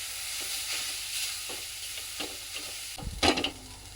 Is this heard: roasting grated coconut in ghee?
yes